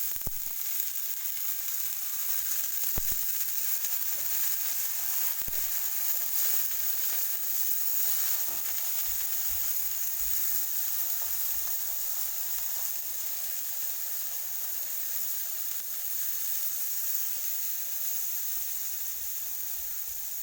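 Brinjal seasoned only with salt sizzles steadily on a hot tawa over medium heat, a continuous bright frying hiss that holds unchanged for the whole stretch with no voices.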